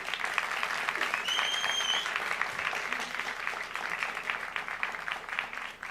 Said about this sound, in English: Graduates, please give a round of applause to all those who are here and have helped you to succeed at this